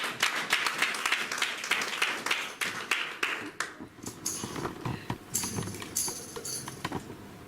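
Church congregation clapping in acclamation of Jesus during a French sermon on prophecy and tongues, dense rhythmic hand claps that taper into scattered, sparser claps over the last few seconds.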